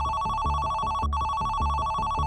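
A telephone rings in a police control room, a loud electronic bell trilling in rapid repeated bursts, two rings back to back with a brief gap between.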